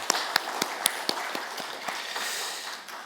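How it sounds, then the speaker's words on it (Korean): A church congregation applauds, with sharp individual claps standing out over a dense, steady wash of clapping that fades slightly toward the end. "주님께 영광의 박수 올려드리겠습니다"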